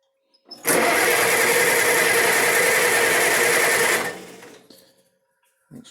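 Cub tractor engine cranking while failing to start, a loud, steady whirring grind lasting about three seconds before winding down, then quiet.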